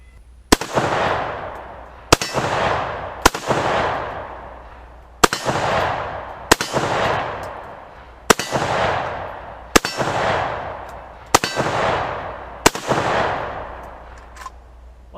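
An I.O. AK47 rifle fires single shots outdoors, nine sharp loud cracks spaced irregularly one to two seconds apart, each followed by a long echoing decay.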